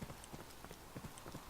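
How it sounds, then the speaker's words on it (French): Horse hooves clip-clop in Borderlands 2, several quick irregular hoof strikes at close range over a steady game background. "Le cheval."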